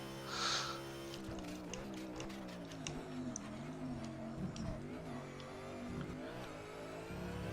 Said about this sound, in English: You can just hear kind of little clatters in the background.